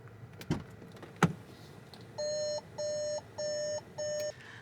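Rental car door-open warning alarm sounding in four loud, evenly spaced electronic beeps of about half a second each, steady mid-high tones, following two brief thumps.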